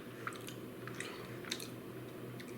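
Quiet chewing of tender crockpot-cooked chuck roast with gravy, a few soft wet bites and squishes spaced across a close, low background hum.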